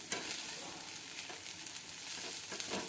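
Poha being mixed in a pan, a faint steady sizzle with soft scraping stir strokes, close but quiet, no voices.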